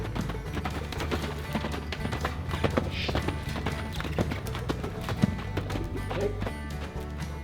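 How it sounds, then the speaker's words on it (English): Hooves of a young horse loping during colt training clip-clop in a steady rolling rhythm at moderate distance, with a brief word from a person and a faint whinny. "I'm going to tip him on up into a lope so I can see how he moves at the lope."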